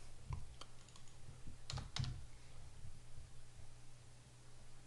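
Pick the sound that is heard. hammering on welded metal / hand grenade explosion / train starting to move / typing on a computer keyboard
typing on a computer keyboard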